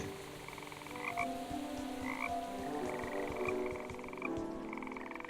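Frogs croak in the video game Woven, a steady chorus of repeated calls layered over a continuous ambient bed, fairly near and evenly loud throughout with no talking.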